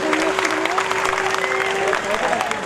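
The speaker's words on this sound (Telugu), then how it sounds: "ఒక్కసారి కరీంనగర్ ప్రజలందరికీ 2 చేతులకి చప్పట్లు కొట్టారన్న" A crowd at a Karimnagar rally claps in a dense, sustained burst, with voices mixed in and a held tone sounding under the applause.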